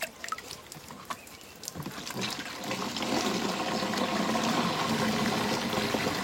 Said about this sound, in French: Vous allez maintenant verser l'eau complétée à 16 litres.